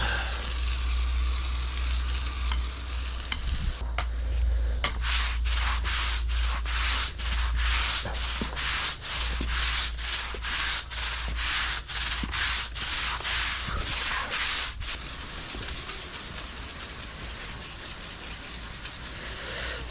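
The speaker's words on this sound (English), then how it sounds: "So I'm gonna scrub this pad here real quick with the broom." A broom scrubs a concrete pad being washed, giving a steady run of rhythmic, rasping strokes over a constant low hum of nearby equipment, with quieter spray-like hiss before and after the scrubbing.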